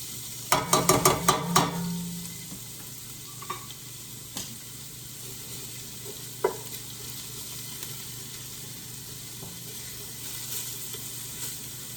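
Carrots sizzling in oil in a pan for a quick dinner: a burst of rattling clatter as the pan is swirled, then a soft steady fry with a few faint ticks.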